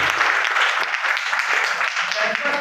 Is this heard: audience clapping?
yes